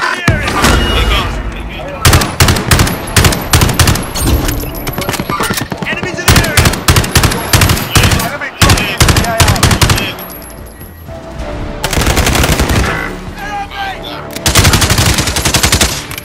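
Loud gunfire in Call of Duty: Modern Warfare, with dense bursts of automatic rifle fire and scattered single shots that go on almost nonstop, briefly easing before more volleys, while players talk over it.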